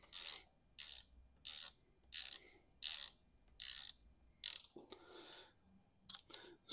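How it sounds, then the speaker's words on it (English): Ratcheting clicks from an 8 mm combination wrench snugging a bolt down during assembly of a Sur Ron Ultra Bee electric motorbike, six evenly spaced bursts of clicking, close and alone, then a few scraping metallic handling noises. "we're going to move them as far inboard as we can using an 8 millimeter combination wrench"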